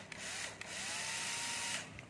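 An electric cordless screwdriver drill whirs at close range in a short, steady burst, its motor pitch holding level and then tapering at the end.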